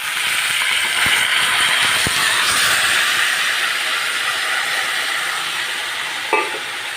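Mutton hits a pan of deep-fried papaya and onions in a Bengali mutton curry, giving a loud, steady sizzling hiss throughout, with a brief clatter near the end and no talking.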